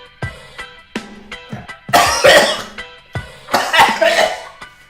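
Harsh, repeated coughing right after a hit of cannabis: close, loud bursts in two clusters, with short rasping gaps and throat clearing between fits.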